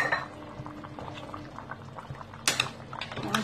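A pot of cow trotters with chickpeas and raisins simmering on the stove, a soft steady bubbling with faint pot clinks and a brief louder clatter near the end.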